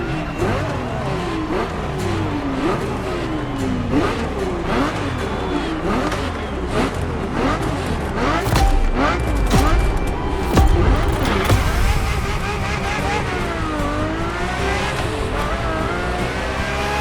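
A Ferrari F50 in The Crew Motorfest racing game, its engine revving loud and steady with rising and falling pitch through gear changes and occasional tire squeal, a continuous roar throughout.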